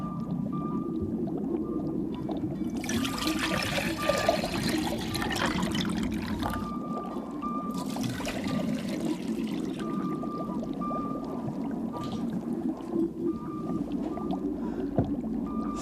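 Water pours and trickles steadily with splashy bursts, close by, over a continuous low hum; no talking.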